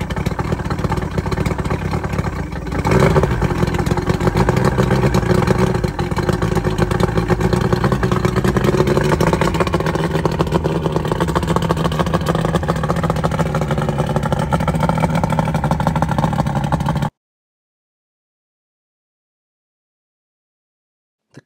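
A 1975 Sidewinder boat's two-stroke outboard motor runs steadily with a loud buzzing, clattering drone for about seventeen seconds, its pitch shifting slightly midway, then it cuts off into silence.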